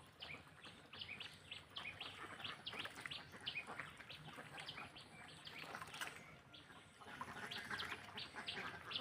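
Domestic ducks on a village pond quack and call in a busy overlapping chorus, faint and somewhat distant, with high chirps mixed in and no talking.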